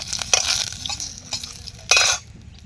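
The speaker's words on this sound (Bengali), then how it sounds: "একটা কারি পাতা দিয়ে দিলাম হালকা করে একটু ভেজে নেবো এগুলো একটু ফোড়ন দিয়ে নিলাম পাঁচ ফোড়ন" Cinnamon, cloves, dried chili, bay leaf and curry leaves fry in hot oil in a pan for a dal, giving a steady close sizzle with bursts of crackling and a few scraping stirs of a spoon.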